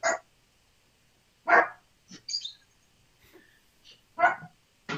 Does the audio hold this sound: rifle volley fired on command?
no